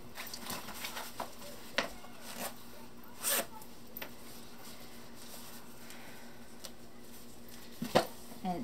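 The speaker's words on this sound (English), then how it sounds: "There's a zipper on this side that you just do the zipper this way" A zipper on a Pronto stroller's storage basket is drawn in several short quick rasps with pauses between them, set against a quiet room hum and faint handling noises.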